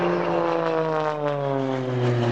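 A propeller aeroplane flies past at the Little Gransden air show, its engine a loud, steady drone with a sliding pitch as it passes close by.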